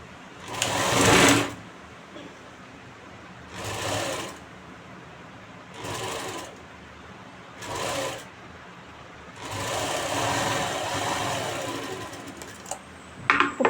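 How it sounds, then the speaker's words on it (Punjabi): A sewing machine stitches the sleeve of a Pakistani-style suit, running in several short close bursts with pauses between, then one longer steady run near the end. "ਬਾਹਾਂ ਦੇ ਪੁੱਠੀ ਸਾਈਡ ਰੱਖ ਕੇ ਆਪਾਂ ਇਹਨੂੰ ਸਟਿਚ ਕਰ ਲਾਂਗੇ"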